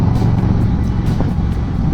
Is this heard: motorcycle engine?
yes